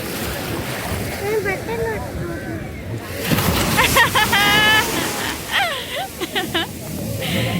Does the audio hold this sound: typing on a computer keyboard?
no